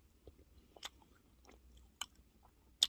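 Someone eating a small cookie ice cream sandwich with blueberry yogurt flavour, with soft close-up chewing and a few sharper crunchy bites, quiet and intermittent, with no talking.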